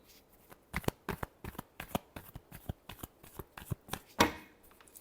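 Tarot cards shuffled by hand in a final shuffle, giving a quick series of crisp riffling taps and slaps close up that ends in a louder flurry, heard alone without talk.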